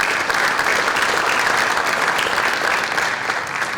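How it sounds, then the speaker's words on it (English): A crowd at a high school athletic signing ceremony gives custodial staff a loud, sustained round of applause, dense and even throughout with a faint murmur of voices mixed in. "I want to give them a round of applause because they deserve it"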